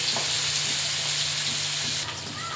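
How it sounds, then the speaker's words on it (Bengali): Onions frying in oil with whole spices in a village kitchen, a loud, continuous sizzling hiss close by that eases slightly near the end, with no one talking. "পেঁয়াজটা ভাজা ভাজা করে নেব।"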